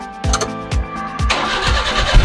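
A Suzuki DA63 4x2 truck engine cranks with a few rhythmic starter turns, then catches and settles into a loud, close idle.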